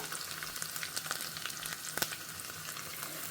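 Mustard seeds, cumin, garlic and two dried red chillies fry in hot oil in a small tempering ladle with a dense continuous crackle and scattered seed pops, steady and close, no voices.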